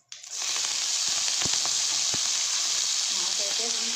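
Fenugreek leaves hit hot oil with a tempering of dried red chillies in a pan, bursting into a loud, steady sizzle after a brief quiet start, with a few sharp crackles and pops over it.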